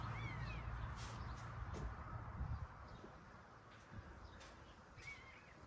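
A cat meows faintly indoors, giving a couple of brief, rising calls spaced a few seconds apart over a low, steady background rumble.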